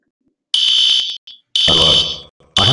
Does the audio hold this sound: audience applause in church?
no